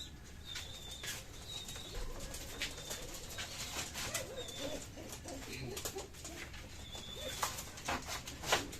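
Pigeons in a loft coo softly in repeated low calls, with occasional wing flaps and rustling nearby, all fairly faint.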